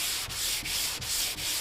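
Hand sanding of guide coat on the bodywork of a 1978 Chevrolet El Camino SS, heard as close, steady rasping strokes, four back-and-forth passes with brief pauses between them.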